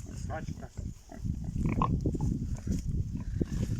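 Pigs grunting and snuffling nearby in a noisy village farm setting, with low rumbling grunts throughout and a person talking at times.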